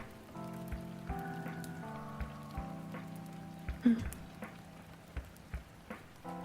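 Gentle rain patter with scattered drips and taps, layered over soft sustained musical tones that change chord every second or so.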